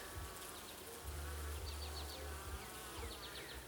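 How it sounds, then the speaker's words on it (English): Honey bees buzz steadily in the honey super of a beehive during an inspection, a dense close hum with the drone of individual bees passing near, and no talking. "There's a lot of bees up in the honey supers, which you want to see."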